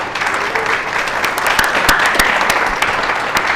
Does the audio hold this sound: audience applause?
yes